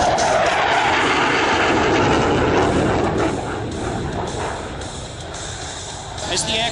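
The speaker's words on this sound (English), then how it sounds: "As the aircraft crosses show center, they will light the afterburner, accelerate to 700 miles an hour" A Lockheed F-104 Starfighter roars by at an air show on a high-speed afterburner pass, a loud broadband jet rush that stays steady, then eases slightly and swells again near the end.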